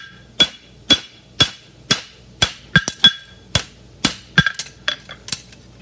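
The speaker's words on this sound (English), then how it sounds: "I'm leaning my hammer a little bit out so that I can accentuate that bevel" A hammer strikes a steel blade in a steady rhythm while forging a bevel, with a bright ringing clang, about a dozen blows, some quick doubled taps near the end.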